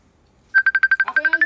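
A cellphone ringtone sounds in a busy home during a holiday gathering, starting abruptly with a quick run of evenly spaced electronic beeps that shift into a fuller melodic tone, loud and close.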